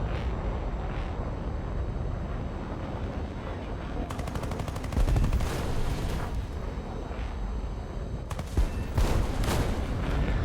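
Rapid bursts of cannon fire from a Mystère IIA jet in a flight combat video game, dense rattling volleys over a constant engine roar, loud and close, with two or three separate bursts.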